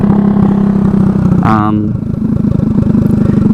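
A Honda Ruckus scooter with a GY6 engine runs with an open header pipe, giving a steady, loud engine drone heard from a helmet-mounted position. Brief speech breaks in partway through.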